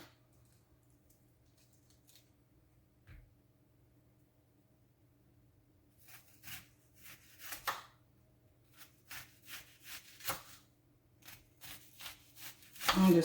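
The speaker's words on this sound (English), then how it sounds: "I'm just slicing this." Knife slicing through vegetables, including onion, on a cutting board while preparing a healthy salad: after a quiet start, a run of short, close, crisp cuts comes in uneven bursts.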